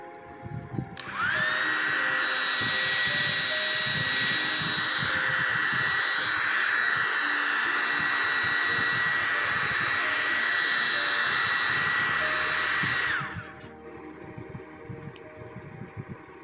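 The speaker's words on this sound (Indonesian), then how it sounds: "kita kena pakai hair dryer supaya dia punya gam boleh lembut lah" A hair dryer blows hot air on a Vivo Y15 phone screen to soften its glue, a loud, steady whirring whine that starts abruptly, holds evenly for about twelve seconds, then cuts off, leaving a quieter background.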